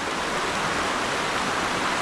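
Straight ahead, the monsoon-fed Zenith Waterfall in forest near Khopoli pours with an even, rushing roar that holds steady throughout, no voices over it.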